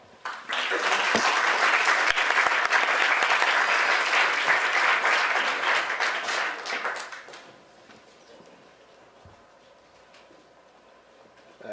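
An audience applauds to welcome lecturer Jimenez Lai: a dense, loud burst of clapping that holds for several seconds, then thins and fades into a quiet hall.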